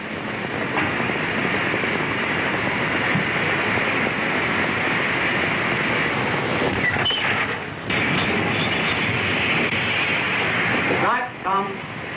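A steam locomotive rumbles steadily and loudly as it moves off, with a continuous rolling noise and a few brief clanks and hisses as it gets under way.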